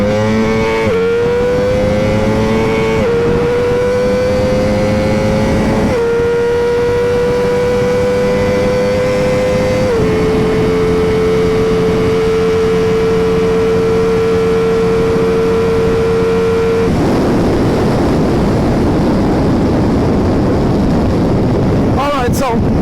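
A 2024 Ducati Multistrada V4 RS on Pirelli tires pulls away and accelerates hard through several gears. The loud engine note climbs and then drops at each shift, and heavy wind roar builds toward the end.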